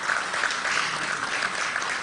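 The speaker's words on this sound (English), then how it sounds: "Let us give the President a round of applause" An audience at the 2022 Galing Pook Awards in Malacañan Palace applauds the President, giving a dense, even round of clapping that holds steady at moderate volume throughout.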